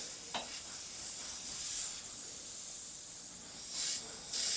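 An airbrush sprays thinned acrylic paint in a steady, soft hiss that runs the whole time. The hiss stays close and quiet, with a brief sharper burst near the start and a few louder swells toward the end.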